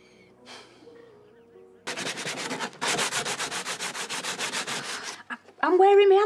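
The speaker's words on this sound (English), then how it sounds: "I'm wearing my hands out sanding" Wood is sanded by hand in steady, close back-and-forth strokes, a rhythmic rasping run of about a dozen passes, with a short scrape beforehand and a voice starting at the end.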